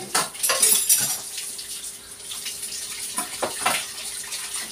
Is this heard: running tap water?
yes